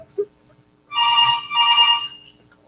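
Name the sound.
telephone ringing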